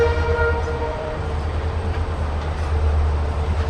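An Amritsar–Bikaner superfast express hauled by two WDG4 diesel locomotives rumbles steadily and loudly, with a continuous engine drone and faint rail clatter running throughout.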